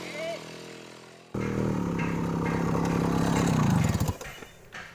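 A motorcycle engine starts up abruptly and idles loudly close by, with a steady rumble that revs slightly before cutting off, as people talk over it.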